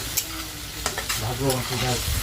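Spices fry and sizzle in a pan while being stirred, a close, steady crackle with scraping strokes and a faint voice in the background.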